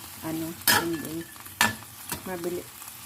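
Crab cooking in a pan, a soft steady sizzle broken by a few sharp clinks and scrapes of a utensil stirring, with faint tonal kitchen sounds in the background.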